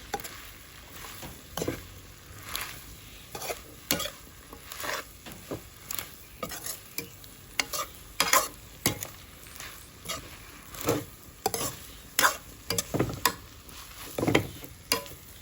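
Pad thai noodles sizzling in a hot pan with repeated scraping and stirring strikes at an irregular rhythm, steady frying hiss underneath throughout.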